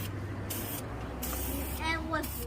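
Sandable automobile primer sprayed onto a chair's metal frame in several bursts of hissing aerosol spray, with a person talking in the background.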